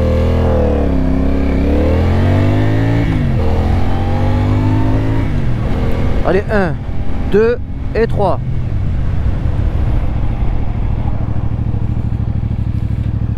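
A 2024 CFMOTO 450CL-C motorcycle pulls away and accelerates hard, its engine rising through several quick gear changes, close and loud, then settling into a steady cruising drone while a rider counts aloud at the start.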